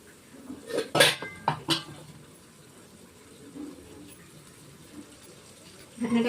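A metal pot lid clanks and clinks in a few sharp bursts while tomato and fish cook on the stove, followed by quieter kitchen sounds and a soft sizzle.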